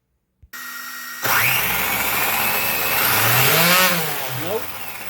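A small electric RC drift car motor revs up on a bench, climbing into a loud high whine with rising and falling pitch sweeps, then easing off near the end.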